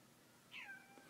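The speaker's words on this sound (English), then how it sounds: "Yeah, that's my cat." A house cat gives a single short, clear meow, fairly close and alone against a quiet room background.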